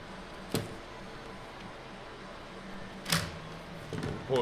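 Strap pulled through a handsaw scabbard leg mount and cinched tight, heard as a few short, faint scrapes and tugs spaced across a quiet background.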